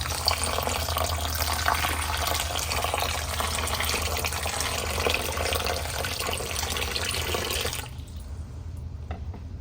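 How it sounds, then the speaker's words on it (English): Water poured from about a foot up onto toilet paper in an RV toilet test gives a loud, steady rushing splash that runs on without a break, then drops to a quieter trickle near the end. "I'm just going to pour this from some distance, a foot or so above, hope for not too much splatter"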